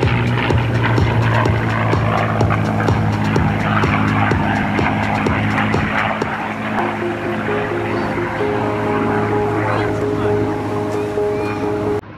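A P-51 Mustang propeller fighter at an air show open house drones in a loud, continuous engine rumble with steady low tones that shift partway through, under an announcer talking over it.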